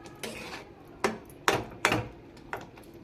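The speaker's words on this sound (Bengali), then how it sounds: "খুন্তি দিয়ে এভাবে নেড়ে নিতে হবে।" A spatula knocks and scrapes against a pot while stirring mango dal, giving five sharp metallic clanks at uneven intervals, close and fairly loud, with no talking.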